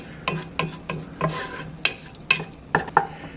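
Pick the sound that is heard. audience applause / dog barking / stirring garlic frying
stirring garlic frying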